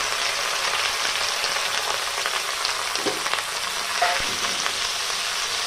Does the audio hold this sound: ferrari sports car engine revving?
no